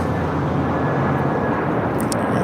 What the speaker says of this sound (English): Korean Air A380 Super